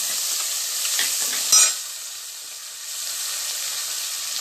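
Steady frying sizzle of spices sautéing in a pan, with occasional stirring scrapes, loud and close, no voices.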